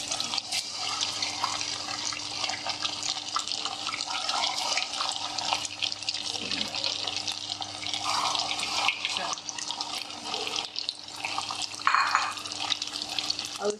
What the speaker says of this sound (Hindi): अब हम इसे फ्राई कर रहे हैं।